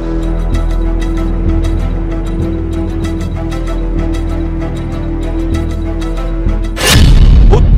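A Russian army strike in Ukraine's Donetsk area sends out one heavy, loud explosion near the end, a sudden broad blast cutting through a sustained low droning tone that runs beneath it.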